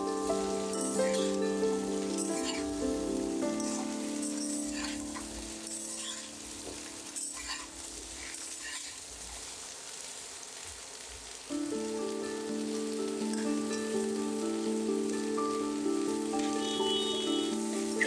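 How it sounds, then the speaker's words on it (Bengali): Mixed vegetables for Bengali shukto frying in a pan: a continuous close crackling sizzle with faint stirring, easing midway and then returning louder, over a soft background tone. "সবজিগুলোকে আমি হালকা হাতে কিছুক্ষণ নেড়ে চেড়ে ভাজতে থাকবো।"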